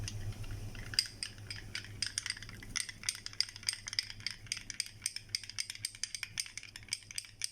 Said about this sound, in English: So I'll take 1 spoon of lemon juice into this and I'll mix it now